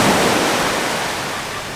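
Ocean waves wash steadily onto Sairee Beach, the main beach on Koh Tao, as a loud, continuous rush of surf with no voices.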